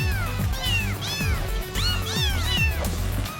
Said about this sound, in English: Crew, protect the kittens!